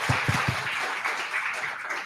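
An audience at a live panel-style talk event applauds with a steady, dense wash of clapping throughout, while a few low spoken words sit under the opening moments.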